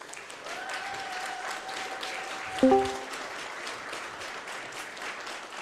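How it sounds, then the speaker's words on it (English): A game jam crowd applauds a university computer science lab, with steady, moderately loud clapping throughout and a brief electronic beep of tones sounding partway through. "So really big round of applause for the CGVR lab and the University of Tartu Institute of Computer Science."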